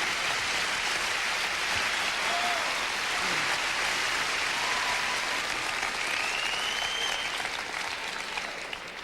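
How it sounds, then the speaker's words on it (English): A large audience applauds Michael Jordan at a comedy tribute show, a dense, continuous wash of clapping that holds steady and fairly loud throughout. "Let's give a big round of applause for Michael Jordan."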